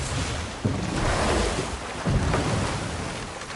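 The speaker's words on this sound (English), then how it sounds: "This boat should get us there if we can clear those vines." A boat moves through river water in the video game God of War Ragnarök, a steady wash of water and wind with two soft surges, alone and fairly loud.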